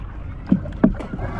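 A wooden paddle dips and pulls through seawater from a small boat out at sea while crabbing, giving two or three short, close splashing strokes over steady wind and water noise.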